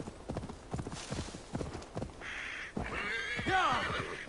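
Horse hooves clop in a steady, close series of thuds in Assassin's Creed Valhalla, followed by a loud, wavering neigh over a rushing background.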